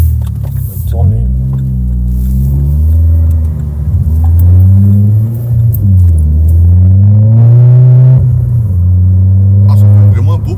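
An Opel Corsa OPC Nürburgring Edition engine runs close by, its note rising and falling through several smooth revs over a deep, steady rumble.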